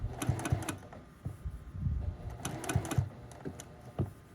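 A sewing machine straight-stitches an appliqué flower quilt block, its needle chattering in quick rhythmic bursts with brief pauses between runs, close and steady, with no talking.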